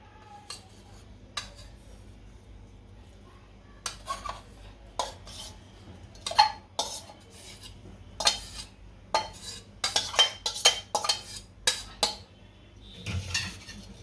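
Grated coconut for kopra pak is stirred and roasted in a pan over low heat, with irregular metallic scrapes and clinks of a spoon against the pan that grow busier and louder after a quiet start, and no talking.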